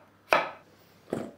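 A knife slices through celery on a cutting board, two crisp chopping strokes about a second apart with a short quiet gap between them, close and fairly loud with no talking.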